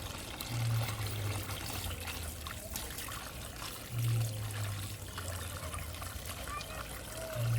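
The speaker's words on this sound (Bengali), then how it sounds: "ভালো করে পরিষ্কার করে পুরানো মাটিগুলোকে ধুয়ে দিতে হবে।" Water runs steadily over the roots of an adenium plant, washing off old soil, in a continuous close trickle and splash.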